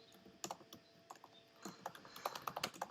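Irregular bursts of clicky keystrokes on a computer keyboard, quiet and close, sparse at first and then a faster run of typing toward the end.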